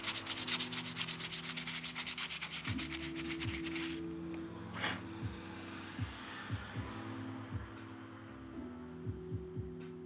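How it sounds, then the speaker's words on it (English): Rhythmic rubbing strokes of sanding on knife blanks, close and steady for the first few seconds, then quieter, with low mechanical tones and scattered ticks running underneath. "So much sanding."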